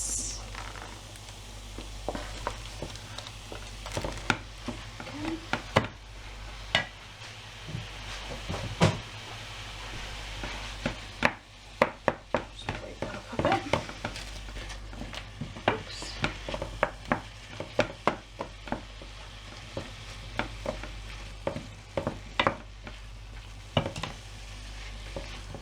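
Beef mince frying in a pan alongside celery, with a steady background sizzle broken by frequent scrapes and stirring clatters from a utensil against the pan, close and fairly loud throughout.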